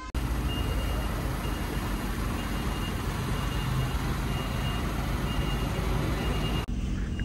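An electric truck sounds steady reversing beeps while backing into a loading bay, with a constant rush of motor and yard noise throughout that cuts off near the end.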